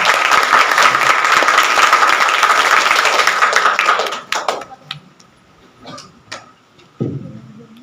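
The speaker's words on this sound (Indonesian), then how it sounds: "Tepuk tangan dulu Bang." Dense applause from a student orientation audience at a college in Tabalong, loud and continuous for about four seconds, then fading into a few scattered late claps and taps.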